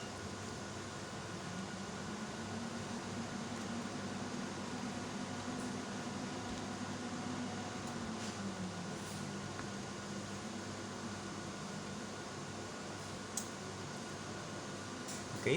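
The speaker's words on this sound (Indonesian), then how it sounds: "di sini inverter menyala" A 6kW 48V rackmount hybrid inverter hums steadily after being switched on, a constant low electrical drone with faint fan-like hiss and a few small clicks, no voices.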